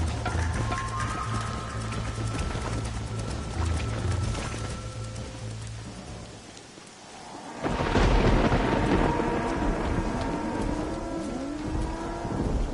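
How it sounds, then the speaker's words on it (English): A thunderstorm rolls over a Red Dead Redemption landscape, steady rain hissing throughout and a loud thunder crack about halfway that rumbles on under the downpour, with faint hoofbeats. "The storm's getting worse."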